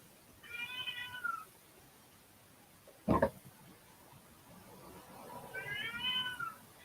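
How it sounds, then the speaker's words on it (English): A domestic cat meows twice for attention, each call a drawn-out, wavering cry, separated by a brief sharp knock. Nearby and moderately loud in an otherwise quiet room with no talking. "That's my cat. Wants attention."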